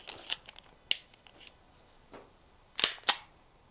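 A Springfield Prodigy pistol loaded with a 20-round magazine fires a few sharp reports: one near the start, then a quick pair near the end, with faint clicks and handling noises in between.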